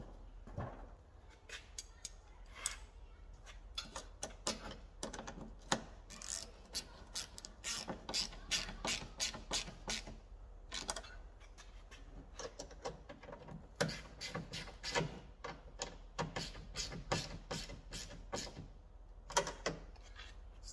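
Bolts on a quad bike are tightened with a ratchet. Rapid clicking bursts repeat irregularly over about twenty seconds, close by and moderately faint, with light clanks of tools and no talk.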